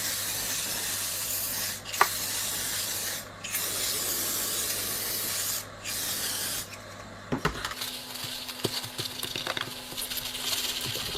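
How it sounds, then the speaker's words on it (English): Label remover is sprayed onto a plastic part of a Tom Evans Mastergroove SR MKIII during a repair, giving several close, steady hissing bursts with brief pauses, then quieter rubbing and handling noises. "Just spray on some label remover to get rid of this residue."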